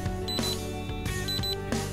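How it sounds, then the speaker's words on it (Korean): Buzzer beeps from a massage chair signaling completed body-shape recognition, several sharp electronic chirps in an even repeating pattern over a steady mechanical hum. "체형 인식이 완료되면 삐빅 부저음이 5회 발생합니다."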